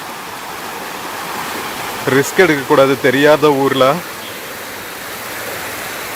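Forceful river water flowing through a forest where two rivers meet in Keeriparai Reserve Forest, a loud, steady rushing roar throughout, with someone speaking briefly over it midway.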